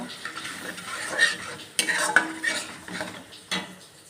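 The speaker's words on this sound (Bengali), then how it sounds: "এর সঙ্গে মিশিয়ে দেবো একটু কাশ্মীরি লঙ্কার গুঁড়ো এটাকে কষাতে দেব" Kashmiri chili powder being sautéed in a pan, heard as steady scraping and clinking of a spatula against metal over a light sizzle, with sharper knocks near the middle.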